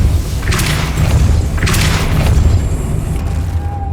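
Depulso force spell cast in the Hogwarts Legacy video game, two heavy booming thuds with bright whooshing bursts about a second apart over a low ambient game hum, loud and close with no talk.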